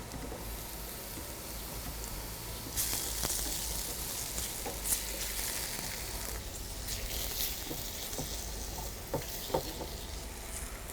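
Egg rolls frying and sizzling in a pan in a home kitchen, a steady crackling hiss with scattered sharp pops and stirring scrapes, close and continuous.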